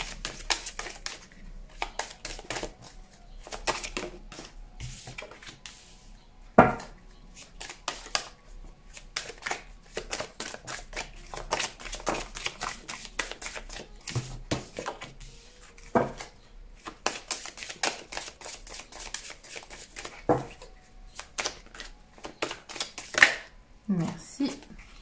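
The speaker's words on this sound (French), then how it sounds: "Tirage en 9 cartes également." Tarot cards are shuffled and drawn for a nine-card spread, with a steady stream of soft close card flicks, taps and riffles in uneven bursts, quiet overall, with a couple of sharper slaps.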